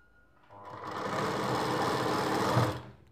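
A sewing machine hums in one continuous close run while stitching magji piping trim with pure lining fabric on a Rajputi dress, rising smoothly and holding steady for over two seconds before cutting off.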